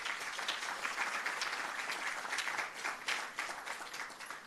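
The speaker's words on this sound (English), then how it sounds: "let's give her another big round of applause" Audience applause in a conference room at a tourism networking event, a steady round of clapping at moderate level that fades slightly toward the end, with no talk over it.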